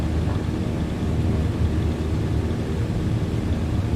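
Jet airliner rolling for takeoff on runway 12 right in a flight simulator, a steady broadband engine roar with low rumble that holds constant and loud throughout, no voices.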